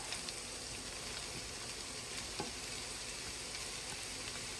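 Rice dish ingredients sizzle steadily in a pan while being stirred and mixed, a dense continuous frying hiss with faint scraping clicks, fairly close and with no voices.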